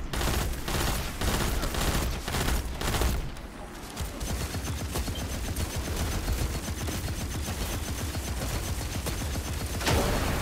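A pulse weapon fires in Destiny 2: loud, rapid bursts of gunfire that start dense and keep going steadily over mechanical clatter.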